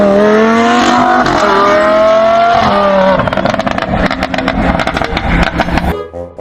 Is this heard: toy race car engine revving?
yes